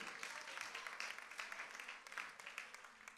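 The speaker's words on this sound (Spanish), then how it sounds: "Dale un aplauso al Rey" A church congregation applauds during a sermon, with steady, fairly faint clapping and some crowd sound mixed in throughout.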